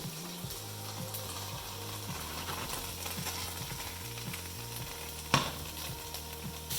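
Frozen Ajinomoto gyoza crisping on their bottoms in a pan, a steady close sizzle running throughout with a low rhythmic mechanical tone beneath and one brief clatter near the end.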